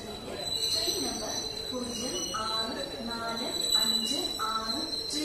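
The Mangalore-Chennai Mail train at Thalassery station, with a steady rolling rumble and high metallic wheel squeal, plus a few short tonal chimes rising over the platform noise.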